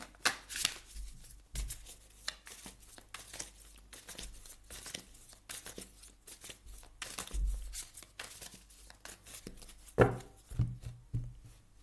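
Tarot cards shuffled by hand for a monthly reading, a run of quick papery riffles and soft slaps that repeat in uneven bursts, close and fairly quiet, with no talking.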